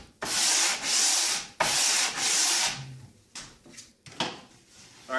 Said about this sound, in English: take your board and just run some coarse or some medium sandpaper over it to kind of make a smooth surface here